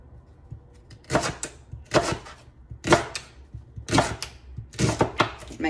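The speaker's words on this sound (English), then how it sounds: "Curling my fingers and pushing the vegetable down as I cut." A kitchen knife cuts vegetables on a board for leek and potato soup, producing five or six crisp, separate chops at a steady unhurried pace, close up with nobody talking.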